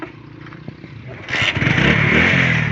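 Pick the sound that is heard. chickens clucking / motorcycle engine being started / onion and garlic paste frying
motorcycle engine being started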